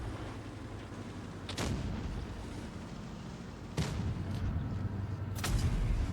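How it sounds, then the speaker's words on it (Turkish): Tank cannon shots in the World of Tanks Blitz game: three heavy booming blasts spaced a couple of seconds apart over a constant rumbling engine bed. "Güzel iki mermi attım."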